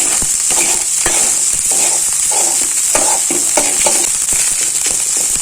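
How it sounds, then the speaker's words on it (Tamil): A spoon stirs egg and goat blood poriyal as it fries in a pan, scraping in a quick, repeated rhythm over a loud, constant sizzle close by. "கலந்து விட்டோம்னா நல்லா பொரியல் நல்லா மிக்ஸ் ஆகிடும்."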